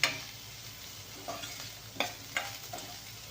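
Ridge gourd fries in a pan with dry red chillies and turmeric, giving a close, continuous sizzle broken by four or five brisk spatula scrapes.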